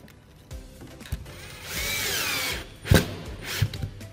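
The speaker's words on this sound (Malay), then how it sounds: "Okey, dan kita skru lah. Skru je kat dinding." A power screwdriver drives a screw into a wall during electrical wiring work, with a short whirring burst in the middle, bracketed by clicks, knocks and handling thuds nearby.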